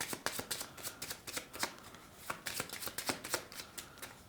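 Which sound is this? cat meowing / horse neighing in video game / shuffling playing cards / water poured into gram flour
shuffling playing cards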